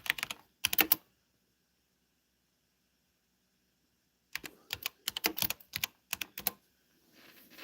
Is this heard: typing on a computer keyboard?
yes